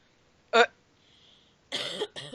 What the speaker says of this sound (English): I'm going to try not to cough into the microphone too much.